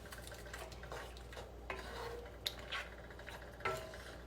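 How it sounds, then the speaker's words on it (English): A one-pot meal being stirred and mixed in a pot, quiet and close, with a few separate clinks and scrapes of a utensil against the pot over a low background hum. "Let's give this a good mix"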